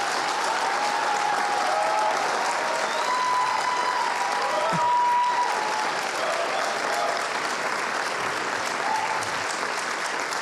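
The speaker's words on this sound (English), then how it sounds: "incredible, resounding round of applause to this incredible woman" A conference audience gives resounding applause, a thick, steady wash of clapping that holds at full strength for the whole stretch with no pauses.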